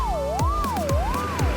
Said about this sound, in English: That's right, it's Amber the ambulance.